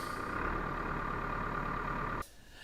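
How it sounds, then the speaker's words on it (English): A 2007 JCB 411 HT wheel loader diesel engine idles after a turbo replacement, giving a steady rumbling drone with a whining tone on top, before it cuts off abruptly near the end and leaves quiet. "It was allowed to idle for a couple of minutes before giving it a few revs"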